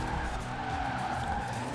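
A car in Forza Horizon 4 drifts with a continuous, steady tire squeal and skid over an engine roar, held at a constant level for under two seconds.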